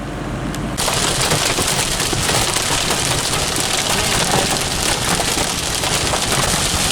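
Heavy rain, mixed with hail, pours down on a moving vehicle, a loud, dense, continuous hiss and drumming that surges in after a brief quieter moment and then holds steady.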